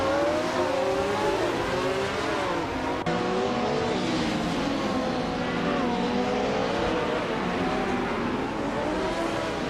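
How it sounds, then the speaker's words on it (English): A 1984 Lola T610 race car driving at speed, its engine roaring steadily and loud with rising and falling pitch as it accelerates and shifts, with other racing noise around it. "Li Rache is running a 1984 Lola T610, known for its aerodynamic design and agility"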